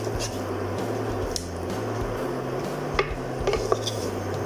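A lid goes onto a boiling pot of quail curry on a gas stove. A steady low burner roar runs throughout, with a few light metallic clinks near the end.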